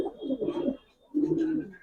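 Giribaz pigeons in a loft give two close, loud cooing phrases separated by a short pause.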